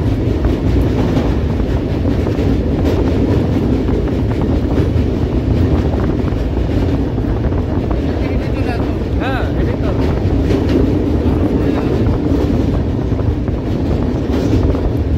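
A moving train on the way to the Maha Kumbh in Prayagraj rumbles loudly and steadily, with a rhythmic clickety-clack running the whole time and a few brief spoken words over it.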